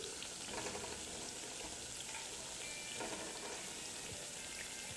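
Food frying in a pan while cooking arroz con pollo, a steady dense crackling sizzle that continues evenly throughout, close and fairly quiet, with no talking.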